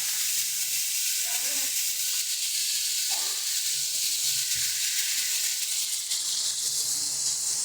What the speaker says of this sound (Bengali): এবার এর মধ্যে দিয়ে দেব পরিমাণ মতন জল